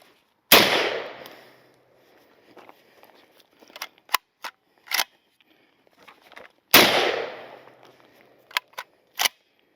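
Polish PAC Pioneer Sporter AKM rifle fired during a mud torture test, with two loud sharp shots about six seconds apart, each followed by a few lighter metallic clicks and clacks of the action.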